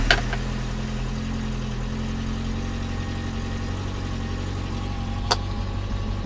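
A 1983 Toyota Tercel wagon engine with about 290,000 miles idles steadily after a cold start, a low continuous rumble with a couple of brief clicks, heard close and alone.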